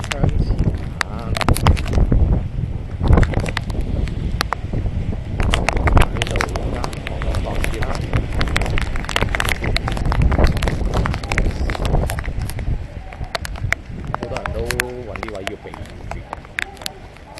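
Typhoon wind and heavy rain strong enough to blow an umbrella inside out roar as a dense, steady wash of buffeting gusts and downpour, close to the microphone, while a person keeps talking over it.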